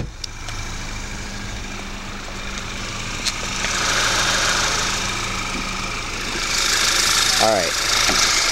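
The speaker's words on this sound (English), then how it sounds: "Almost kind of sounds like a diesel at idle, but that's just a characteristic of these turbocharged German 4-cylinders." An Audi A4 2.0 turbocharged four-cylinder engine idles up close with a steady, slightly diesel-like clatter throughout, rising a little in the second half.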